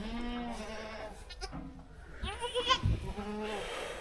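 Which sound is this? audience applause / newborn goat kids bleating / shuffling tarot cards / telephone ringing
newborn goat kids bleating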